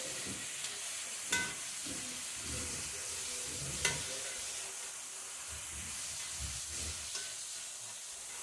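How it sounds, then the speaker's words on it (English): A steak frying in a pan gives a soft, steady sizzle and hiss, broken by a few small pops and clicks, fairly quiet and with no voices. "I got the steak going, and I'm ready to turn it over"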